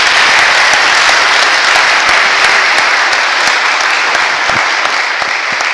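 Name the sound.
audience applause thanking two panellists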